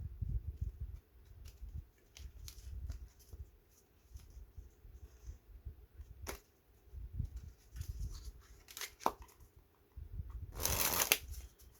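A deck of playing cards shuffled and packeted by hand in several quick riffling bursts, close and fairly loud, with a brighter burst near the end.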